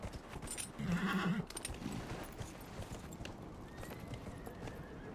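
Rhythmic horse hooves clip-clopping in the video game Dragon Age: Inquisition, with a short whinny near the start, followed by quieter hoofbeats continuing at a steady pace.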